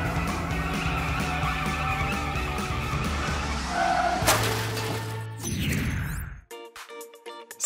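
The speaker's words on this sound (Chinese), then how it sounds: "现在我又能开小汽车了" Toy car racing with loud skidding and tire-squeal noise alongside a revving engine, ending in a crash-like burst followed by a short rhythmic clatter.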